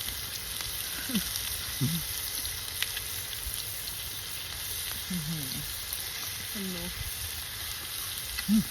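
Marinated pork sizzles steadily on a new Thai moo kratha grill pan, a continuous close frying hiss with occasional soft stirring and brief voices in the background.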